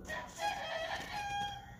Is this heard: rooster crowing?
yes